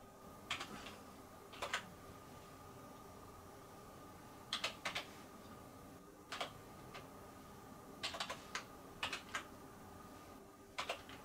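Password typed on a computer keyboard, quiet clicking keystrokes in short irregular clusters over a faint steady background hum, no talk.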